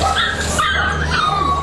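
Abandoned puppies at an animal shelter yip, bark and whimper in quick overlapping high-pitched bursts, close and fairly loud, with no talking over them.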